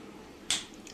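A single sharp finger snap in a home kitchen during mutton curry cooking, crisp and close, standing alone against quiet room tone, followed by a brief voice.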